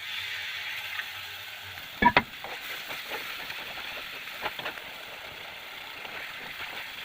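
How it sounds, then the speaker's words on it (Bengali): Water poured into spices frying in a pan sets off a sudden sharp burst of hissing, then a softer, steady sizzle with light scraping and clicks at close range. "এবার জল দিয়ে দেবো।"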